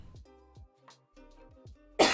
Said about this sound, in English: I'm still coughing like every 3 seconds